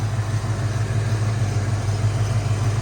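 A Ford Mustang GT Fox Body with a V8 idles steadily close by, a constant low rumble with an even pulse and no voices.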